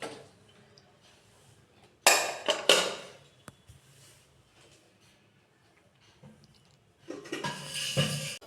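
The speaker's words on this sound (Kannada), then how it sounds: "ಈಗ ಸಾಂಬಾರಿಗೆ ಒಗ್ಗರಣೆ ಹಾಕ್ತಾ ಇದ್ದೀನಿ." Spices for sambar are tempered in a pan with oil. Metal utensil clatter and sharp bursts of sizzling crackle come in two loud spells, with quiet kitchen noise between them.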